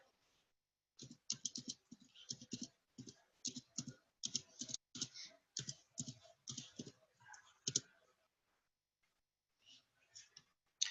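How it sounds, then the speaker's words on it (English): Rapid clicking of keys on a computer keyboard as a website name is typed, close and crisp in quick bursts, then a pause and a few more taps. "you would type in whatever your replicated website name is"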